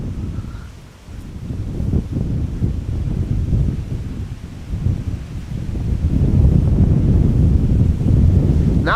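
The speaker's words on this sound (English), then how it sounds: "Really is getting a bit chilly with all the wind" Strong wind blowing at an outdoor airport, a loud, continuous low roar buffeting the microphone that swells toward the end, with no voices.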